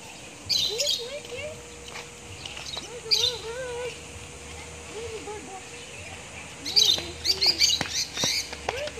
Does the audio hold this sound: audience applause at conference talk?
no